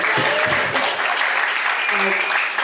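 Applause for Macy at a live end-of-summer motivational event, a dense steady patter of many hands clapping throughout, with brief voices and cheers mixed in.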